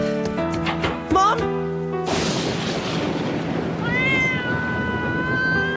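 A black cat meows in a Naruto anime scene, a drawn-out rising call following a loud burst of noise and tonal music, heard over dramatic background sound.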